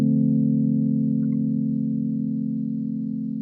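A Rhodes Anthology electric piano rings out as a single sustained low chord through a reverb effect, loud and close, decaying slowly over a few seconds with no talk.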